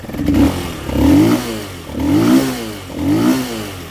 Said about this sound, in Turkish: Motoru bir çalıştıralım. Depo kapağını iyi bakın.